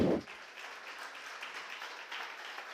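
A church congregation applauds steadily at a moderate distance, a dense wash of clapping that holds even throughout after a brief low thump at the start.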